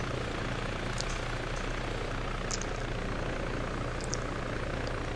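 Helicopter taking off in the video game Arma 3, a continuous dense rotor and engine roar with steady thumping, loud and close.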